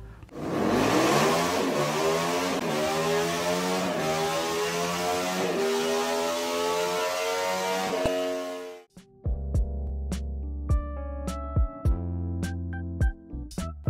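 A 75-degree V-twin supercharged motorcycle engine revs hard and loud, climbing and holding high, then cuts abruptly around nine seconds and settles into a lower, uneven idle with short blips.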